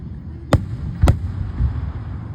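Fireworks bursting beside a road, two sharp bangs about half a second apart followed by a softer third thump, heard from close by over a steady low rumble of background noise.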